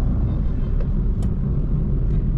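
A steady low engine and tyre rumble fills the cabin of a 2025 Maruti Dzire on the move, with the engine spun up near 3000 RPM. The drone is continuous and even, with no sharp events.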